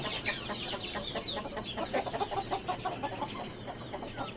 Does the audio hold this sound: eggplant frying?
no